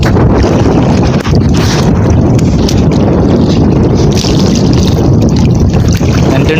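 Big sea waves surround a small fishing boat, a loud continuous rush of water and wind buffeting close to the microphone, with no clear break throughout.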